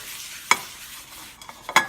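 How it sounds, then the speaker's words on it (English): A utensil stirs a little olive oil around a hot cast iron pan on a stovetop, giving two sharp metallic scrapes over a faint, steady sizzle, close and otherwise quiet. "So just a little drop of olive oil there. Get that mixed around."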